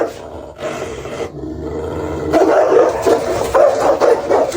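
A Cane Corso dog barks loudly in deep, forceful bursts with growling roar between them, close and continuous, with no talk.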